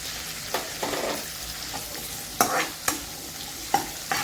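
Carrots being stirred into tawa pulao frying on a tawa, with soft scraping strokes over a low sizzle and a few sharper clacks of the spoon against the pan, close and fairly quiet, no voices.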